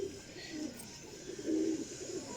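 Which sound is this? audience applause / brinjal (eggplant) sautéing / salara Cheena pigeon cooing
salara Cheena pigeon cooing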